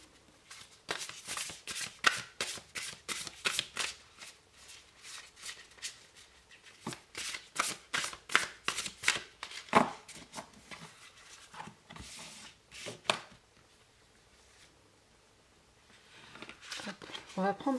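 Oracle cards being shuffled by hand before one is drawn, a quick run of crisp riffling flutters in bursts with brief pauses, close and fairly quiet, while someone talks over them.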